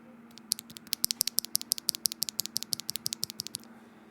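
An Akko x HMX Neo65 mechanical keyboard with a carbon fiber plate and GMK keycaps gives out about two dozen crisp, evenly paced keystroke clacks, close and fairly quiet, over a soft background hum.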